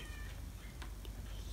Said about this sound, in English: Assassin Kitty, come here right now